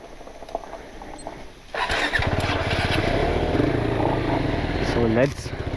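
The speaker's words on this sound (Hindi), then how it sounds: "चल सुल्तान कर दे चढ़ाई" Off-road motorcycle climbing a slope, engine revving up loudly and steadily after a quieter idle, with voices speaking over it at the start.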